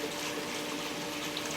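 Water rushes from a flood table's 2-inch tubing, past a baffle and into a 55-gallon drum, making a steady, dense hiss that runs without a break throughout, with no talking.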